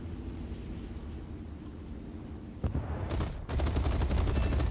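Cannon fire from a fighter bomber strafing ground targets in a combat video game: a dull rumble, then a sudden loud burst of rapid rounds that roars steadily to the end.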